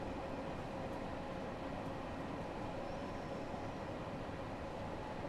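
A London Underground 1972 stock tube train runs in Train Sim World, giving an even, continuous rumble and rolling noise with no break or change.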